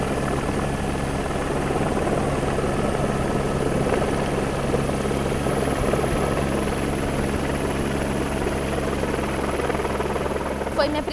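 Continuous loud helicopter rotor drone with a steady low throb and engine whine, heard from inside during a search flight, sustained throughout without a break.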